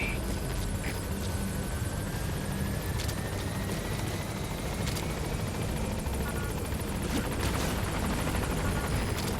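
Support helicopter in Metal Gear Solid V: The Phantom Pain flying in to a landing zone: a steady, loud rotor and engine roar with a deep rumble that continues without a break, with no talk.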